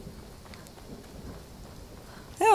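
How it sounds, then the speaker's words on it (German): Rain falls in the Skyrim video game as a soft, steady hiss with faint low rumbling, and a sharp louder sound cuts in at the very end. "Oh, Regen."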